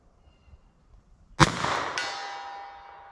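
A .38 Special revolver fired single action at a steel target downrange, one sharp loud crack followed by a bright metallic ring that decays over a second and a half, heard alone.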